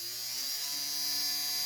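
An old dynamo motor run at about 10 volts spins sandpaper against battery terminals, giving a steady, close electric whine that holds evenly without any voices.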